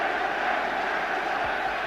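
A vast football stadium crowd at the 1966 World Cup Final, a dense, steady roar of massed voices that stays even and full from start to finish.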